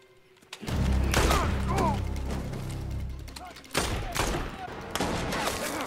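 Gunfire in a zombie-drama episode: loud sustained fusillade of shots and booms with a low rumble, dropping at about four seconds before more bursts return, with voices mixed in.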